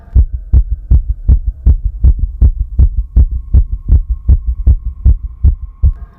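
A heartbeat sound effect for a horror story thumps loudly and steadily, with around seventeen deep, evenly spaced beats over a low hum and no voices.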